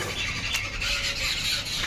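A parrot gives a short, shrill squeal that carries on loudly and continuously for a couple of seconds over a faint domestic background, with no talking.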